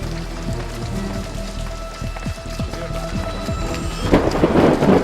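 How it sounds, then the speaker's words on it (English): Steady rain with thunder rumbling throughout in a video game, a louder crash near the end swelling over the downpour. "It's just the thunder."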